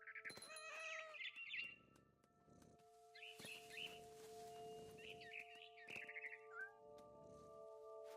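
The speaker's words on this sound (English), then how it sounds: "It was a barn swallow going back to her nest." A barn swallow in What Remains of Edith Finch gives several bursts of quick chirps separated by pauses, with soft rustling and thumps in between and a steady quiet tone underneath.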